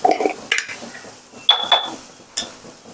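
Tomatoes and soya chunks stirred in a pan over a low gas flame: a few separate metallic clinks and scrapes of a spoon against the pan, close and spaced irregularly, with quiet between them and no talking.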